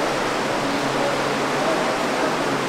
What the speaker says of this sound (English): how the river cuts its way around and through these rocks